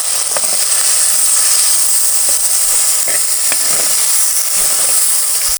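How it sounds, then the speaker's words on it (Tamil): Three medium tomatoes with salt sautéing in a pan, a loud continuous sizzle and hiss up close with occasional soft scrapes of stirring. "இப்போ மீடியம் சைஸ் தக்காளி ஒரு மூணு தக்காளி நம்ம உள்ளே சேர்த்து வதக்கலாம்"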